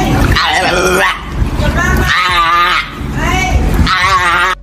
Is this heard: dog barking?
yes